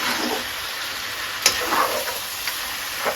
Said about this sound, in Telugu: దీంట్లో నూనెలోనే బాగా వేపండి